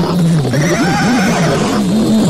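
Horses neigh loudly and close by, one long wavering whinny rising and falling over about two seconds in a dramatized scene.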